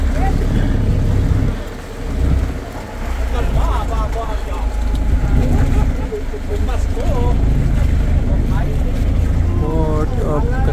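A passenger boat docks at Caticlan port in Malay, Aklan, after a two-hour crossing from Santa Fe on Tablas; a steady engine rumble and wind noise run throughout, with faint voices in the background.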